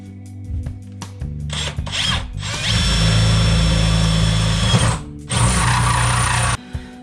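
A power drill bores a hole in the roof of a boat in bursts of motor whine. The drill runs loudly and close, with a long steady run in the middle and a couple of short stops and restarts.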